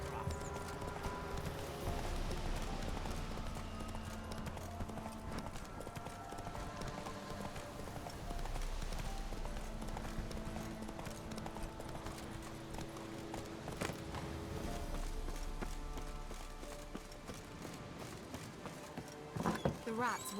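Roach, a horse in the Witcher 3 video game, galloping with steady rhythmic hoofbeats over background music, with speech heard.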